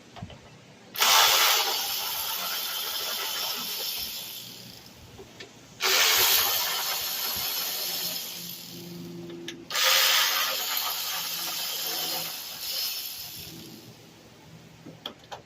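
Four 10 mm bolts come out of a 2022 Kia Sportage during an AC condenser replacement, with three separate loud bursts of whirring tool noise, each lasting a few seconds, between quieter pauses.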